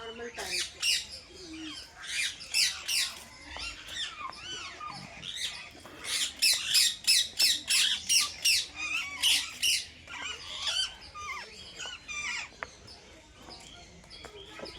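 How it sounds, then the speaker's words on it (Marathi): Parrots squawking at a zoo, a series of loud, harsh, repeated calls in bursts, some overlapping, close by with faint background chatter. "पहा पोपट मित्रांनो"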